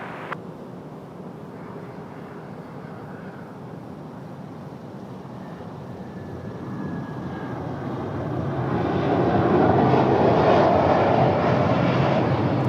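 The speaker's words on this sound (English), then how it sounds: "Gulfstream G650 ER coming in from 1572 Napa" A Gulfstream G650 ER jet arrives at Raleigh Durham airport, its steady engine roar building louder in the second half as it draws near, with no voices.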